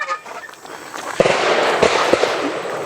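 Pistol shots fired during reload training on a range, several sharp cracks in quick succession about a second apart, loud and close against a noisy outdoor background.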